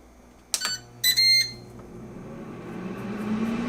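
A Ninja air fryer control panel gives a short beep, then a longer pair of tones as the timer is set, followed by the rising whir of the fan starting up.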